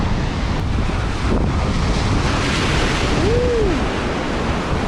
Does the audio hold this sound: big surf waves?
yes